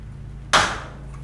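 A plastic door trim clip pressed into a VW Beetle door, a single sharp snap up close that cuts through a quiet background and fades quickly.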